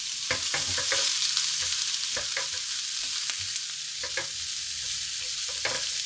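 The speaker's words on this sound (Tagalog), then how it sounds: "igisa na natin yung isang pirasong sibuyas" One chopped onion sautés in oil in a non-stick pan, a steady bright sizzle with repeated scraping and tapping of the spatula as it is stirred, close and without talk.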